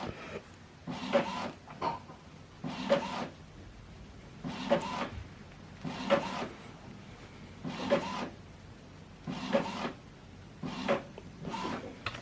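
Epson WF2930 inkjet printer printing a scanned document, the print head sweeping back and forth in regular whirring passes about every one and a half seconds, faint and close, with quiet gaps between strokes.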